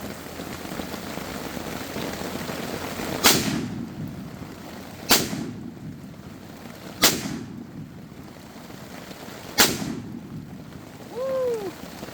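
Guns are fired outdoors in steady rain, with four sharp, loud shots spaced a couple of seconds apart over the constant patter of rainfall.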